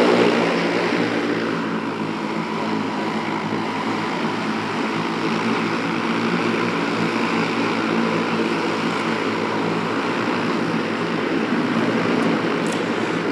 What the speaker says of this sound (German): damit Sie den Start hören.